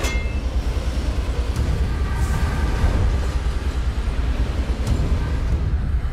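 Cartoon train running steadily along the tracks, a continuous loud rumble with faint metallic clinks, heard alone with no talking.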